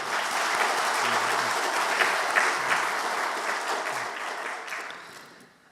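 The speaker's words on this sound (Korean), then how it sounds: "우리 회원들을 위해 박수로 격려하겠습니다." A church congregation applauding, dense sustained clapping from many hands that fills the room and tapers off toward the end.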